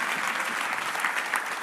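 Steady applause from a church congregation during a worship testimony, a dense, continuous clapping throughout with no voices standing out.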